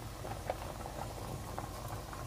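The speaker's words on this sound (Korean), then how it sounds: "그러면 이제 불을 켜서 뚜껑을 닫고 끓일게요." Korean braised chicken (dakjjim) with potatoes and carrots simmers in a covered pot, giving a soft steady bubbling with small irregular pops at low volume.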